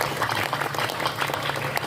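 Applause for Pak Saim at an Islamic religious lecture in Greged, Cirebon: a steady wash of audience clapping, fairly close and continuous for the whole stretch, with no pauses.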